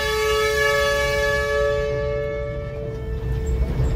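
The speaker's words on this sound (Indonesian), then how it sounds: "Ya itu tuas klakson." A loud, sustained locomotive horn blast from a sugar mill molasses freight train at PG Prajekan, a rich chord of tones fading off after a couple of seconds over the train's rumble.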